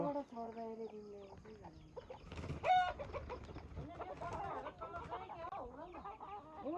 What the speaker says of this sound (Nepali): कस्तो राम्रो भाले छ